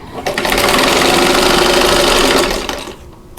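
Sewing machine stitching a quilt block for a French Silk Pie pattern, a steady loud mechanical whir with rapid needle rhythm running continuously for about two and a half seconds before slowing to a stop.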